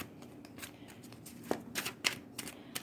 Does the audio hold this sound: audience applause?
no